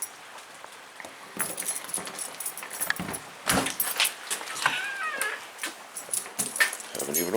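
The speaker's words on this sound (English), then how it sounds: "Find the right key here." Keys jangle in bursts of bright metallic clinks as someone sorts through a ring for the garage key in damp, rainy weather, with scattered handling noises and faint sounds in the background.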